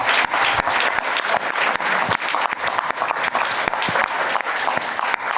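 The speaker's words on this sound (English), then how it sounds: "Big round of applause." An audience at a language-technology conference session gives a big round of applause for the organisers. The clapping is sustained and full, with sharp individual claps standing out through the dense wash.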